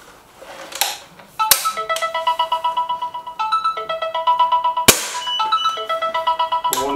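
A mobile phone ringtone plays a bright, repeating electronic melody for several seconds during an SMK XS36 air rifle test session, loud and close, with no talk over it.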